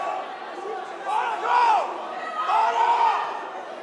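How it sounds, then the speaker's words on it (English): Crowd at a live MMA featherweight championship bout yells and shouts instructions, voices rising in bursts and swelling twice, moderately distant and mixed with general arena noise. "Crowd going crazy, yelling out their instructions."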